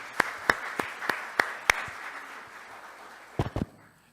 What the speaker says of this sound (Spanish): Vamos a recibir entonces con un fuerte aplauso al profesor José Antonio Caro Young.